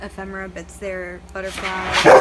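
A dog lets out several high, whiny yips and barks nearby while a person keeps talking over them.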